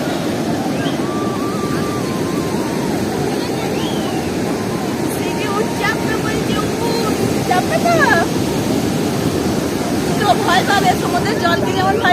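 Sea surf breaking on a beach makes a steady, loud broadband roar with wind buffeting the microphone. Faint voices of people talking come through now and then.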